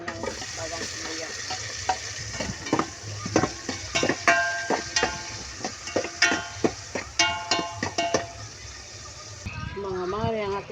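Garlic and onion sauté in a pan for sinigang na hipon, sizzling steadily close by while a utensil stirs and scrapes in repeated clacking strokes. A voice speaks briefly near the end.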